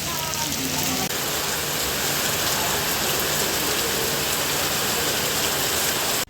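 Heavy morning rain pours down at a riverside resort near hills and tea gardens, a loud, dense, continuous hiss that fills the whole span.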